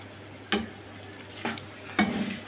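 A spoon scrapes and clinks against a pot of boiling macaroni, with three brief knocks spaced across a low, steady background hiss.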